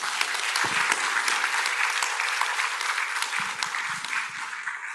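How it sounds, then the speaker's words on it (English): An audience at an international agricultural technology symposium applauds the panelists, a steady, dense wash of many hands clapping that carries evenly through the whole stretch, with a faint voice briefly underneath. "please give a round of applause to the panelists"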